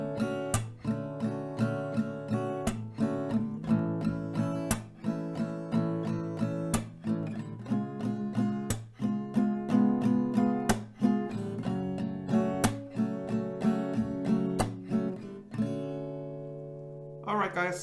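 Acoustic guitar strumming the chord progression of a song, two strum rounds per chord in a steady rhythm, close and clear, with no talk, ending on a brief lighter strum.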